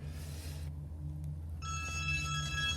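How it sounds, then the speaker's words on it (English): A telephone rings faintly in the background of an indoor space near a Volvo XC90, a bright electronic tone starting partway through over a low steady hum, with no talk. "Sorry about the phone, hopefully my colleague will get it."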